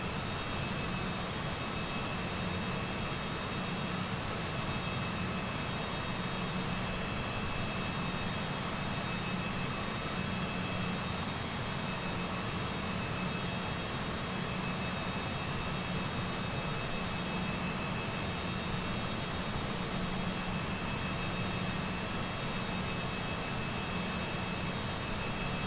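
A Cessna Citation CJ4 business jet taxis in Microsoft Flight Simulator, its engines a constant, even whine and roar with a steady high tone, unchanging for the whole stretch.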